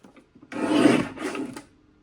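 A paper trimmer slices through cardstock for a handmade card, giving a single rasping cut of about a second that stops briefly midway and then finishes, with a few faint handling taps before it.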